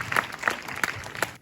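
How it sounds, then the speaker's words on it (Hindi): A school audience applauds to welcome a speaker at a National Space Day event, with distinct, loosely rhythmic claps rising and falling in bursts before the sound cuts off abruptly. "एक बार तालियों के साथ सर का स्वागत और अभिनंदन"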